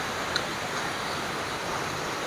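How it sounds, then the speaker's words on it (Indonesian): Water trickles down over rocks at a small waterfall outdoors, a steady soft wash of broadband rushing noise with no talk. "kayak ada suara gemericik dari air. Itu kayak ada air terjun kecil lah ya"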